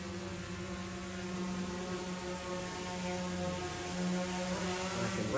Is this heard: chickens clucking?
no